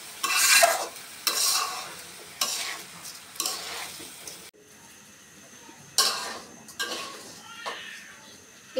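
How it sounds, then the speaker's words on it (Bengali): Rice stirred and fried in a pan with onions and garam masala for white pulao, loud bursts of scraping and sizzling in repeated strokes with brief pauses, close and without speech. "এখন চালটা খুব ভালোভাবে ভেজে নিচ্ছি।"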